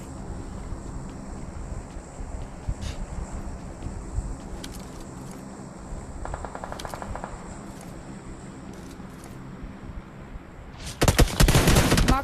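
Rapid automatic gunfire from a PUBG Mobile battle royale match, a dense burst near the end over steady game ambience and scattered earlier shots, with no talk.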